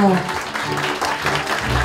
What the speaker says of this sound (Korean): 여러분 다시 한번 축하의 박수 보내주십시오.